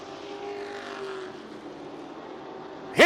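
A NASCAR weekly-series race car drones at a distance at Colorado National Speedway, its engine tone sliding steadily, then roars in loud and close as it sweeps past at the very end.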